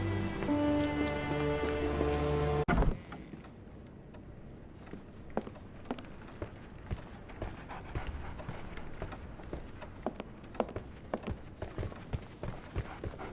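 Steady rain falls in a Victorian London street scene from the video game Sherlock Holmes: The Awakened, a soft continuous patter with scattered sharper drops, heard alone after music cuts out early.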